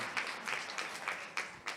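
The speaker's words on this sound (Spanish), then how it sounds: "Fuertes aplausos al Señor." A church congregation claps during a worship service, with a faint, brief patter of applause and a few sharper claps standing out.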